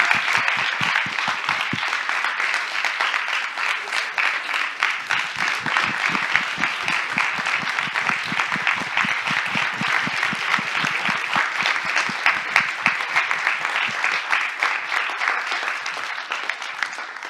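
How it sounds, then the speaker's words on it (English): An audience at a fall student showcase of spoken narratives gives sustained, dense applause, many hands clapping steadily and close for a long stretch with little talk. "Let's give them a round of applause, please."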